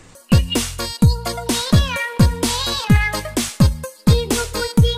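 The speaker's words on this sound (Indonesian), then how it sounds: "di sini ada hewan kucing" A cat meows again and again in a steady string of short, bright calls, close and clear over a repeating electronic beat, with no one talking.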